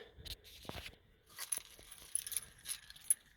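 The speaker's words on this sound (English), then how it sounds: "I guess I gotta get my keys out." Metallic keys jangle and clink in short bursts, close by, with a few brief rustles and knocks between them.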